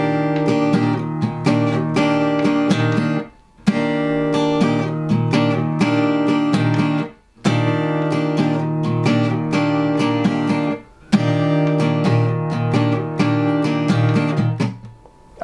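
An acoustic guitar strums a steady pattern for a song, with bright, full chords in four repeating phrases, each ending in a short pause before the next.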